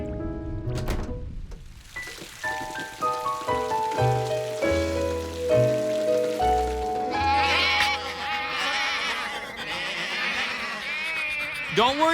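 Cartoon sheep from Curious George bleating in a series of stepped, wavering calls, rising into a busier cluster of overlapping bleats toward the end.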